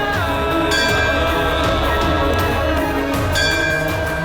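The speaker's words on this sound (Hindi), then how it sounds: "फिर ये घंटी कैसे बज रही है अपने आप ही?" A bell rings steadily with a bright sustained tone, repeated strikes blending into a continuous ringing that fills the whole stretch.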